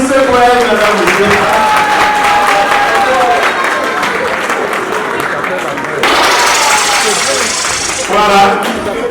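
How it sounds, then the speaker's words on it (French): Clapping from the audience at a New Year's Eve gala runs steadily, with a host's voice and music carrying over it. "C'est Madame Sonia Tchébou, applaudissez pour elle, Madame Monsieur."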